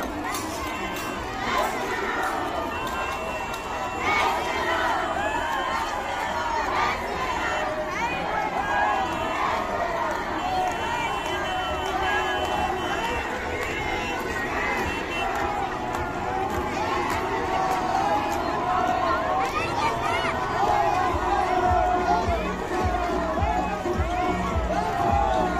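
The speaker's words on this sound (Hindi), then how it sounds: "लोगों की भीड़ देखिए आप, लगातार भीड़ बढ़ती जा रही है" A dense crowd at a religious procession keeps up a steady hubbub of voices, shouts and movement, loud and continuous throughout, with chatter mixed in.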